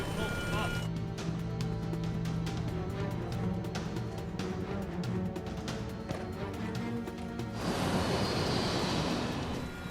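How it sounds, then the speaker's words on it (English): A cockpit alarm warning the pilots aboard Spanair Flight 5022 during takeoff, a rapid repeating electronic beep over a loud engine roar, with narration speaking over it in a dramatized reconstruction. "An alarm warns the pilots something is going wrong."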